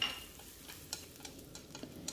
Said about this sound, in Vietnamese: khi dầu đã nóng thì mình sẽ cho xả tỏi hành tím và ớt vào để mình phi